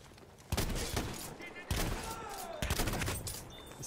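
In Battlefield 1 multiplayer, bursts of gunfire crack out in several sharp volleys, a rapid fusillade that returns three times over a noisy battle backdrop.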